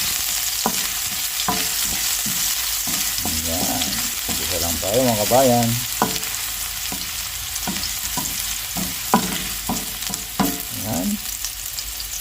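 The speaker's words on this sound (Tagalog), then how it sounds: "mainit na po yung ating kawali at mantika. Isa na po natin yung ating luya." Ginger frying in hot oil in a pan, a steady broadband sizzle running throughout with occasional stirring clatter, while someone talks briefly over it.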